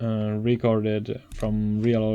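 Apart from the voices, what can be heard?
None of the usual background noises is heard.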